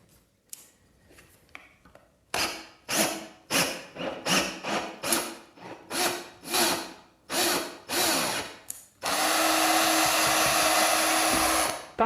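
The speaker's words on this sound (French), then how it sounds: "Réduisez maintenant la vitesse de la perceuse." A Chinese 2-in-1 drill bores into wood at reduced speed, first in a string of short whirring bursts with pauses between, then one long continuous grinding run, close and loud.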